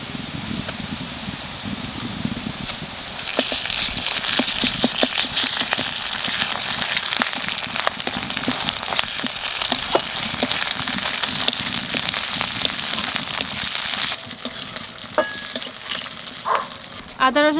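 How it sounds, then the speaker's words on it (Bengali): Ginger garlic paste hits hot oil with browned onions in a pan, bursting into a loud, crackling sizzle that continues steadily, with occasional scraping and stirring clicks near the end. "এখন আদা রসুন একসাথে বাটা দিয়ে দেবো।"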